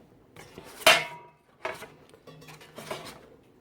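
The microwave pan of a Galanz microwave air fryer being handled, a sharp metallic clank near the start and then two or three softer knocks and rattles as it is set in place.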